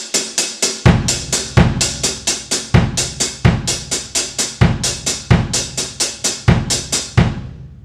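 Linear 5-3 drum pattern played with both hands on the hi-hat, a steady rapid stream of crisp hat strokes with regular heavy kick-like accents, close and loud, ringing off at the end.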